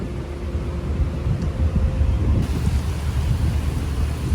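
Steady rain falls at night around a ferry pulling away from its berth at Merak harbour, a continuous broadband hiss with a low rumble underneath and no voices.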